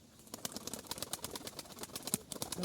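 Pigeons on a tiled roof cooing and fluttering nearby, with soft repeated wing claps and rustling over a faint outdoor background.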